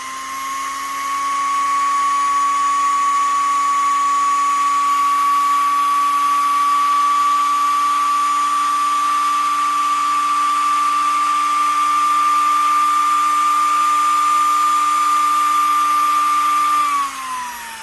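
Motor of a Necchi Mira sewing machine, housing removed, running alone at high speed with a steady, loud, whining hum that holds a constant pitch for about fifteen seconds before winding down.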